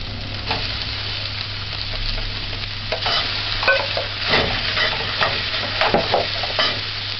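Corned beef stirred in a pan with sautéed, caramelized onions, a steady sizzle of frying under repeated scraping stirs that grow busier and louder toward the end, close up with no talking.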